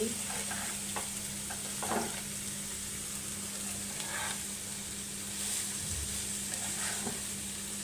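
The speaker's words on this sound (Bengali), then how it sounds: "এবার আমি দিয়ে দিচ্ছি ভাজিগুলো দিয়ে কিছুক্ষণ নাড়াচড়া দিয়ে দিচ্ছি" Bottle gourd peel and potato with turmeric stir-frying in a pan, a soft continuous sizzle broken by the scrape and clink of a spatula every second or so, quiet and close.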